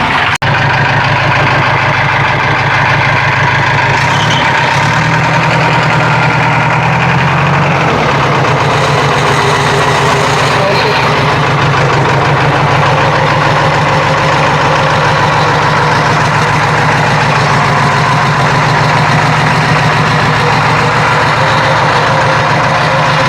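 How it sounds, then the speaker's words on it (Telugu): JCB backhoe loader diesel engine running, loud and close with a steady low throbbing idle that lasts throughout, briefly shifting pitch near the start. "స్టార్ట్ చేసి చూపిస్తాను మీకు వెహికల్ సౌండ్ ఎలా ఉందో"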